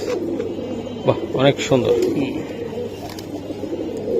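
Kaldom pigeons, a large breed offered for sale in pairs, give a few low cooing calls near the start, with steady background noise and a voice talking over them.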